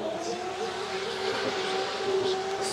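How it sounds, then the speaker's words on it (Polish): Drifting cars at a Polish drifting championship, heard as a steady, distant roar of engines and tire noise with a sustained whine running underneath the whole time. "Przeszkadzają nam trochę driftujące samochody, no ale nic na to nie poradzimy."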